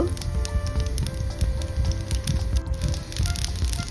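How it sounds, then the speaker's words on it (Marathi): Mustard seeds, cumin and asafoetida crackle and sizzle in hot oil in a pan, making a dense, steady popping and hissing that continues evenly, close and moderately loud. "आता आपण तेल घातलं आहे आणि मोहरी जिरे हिंग"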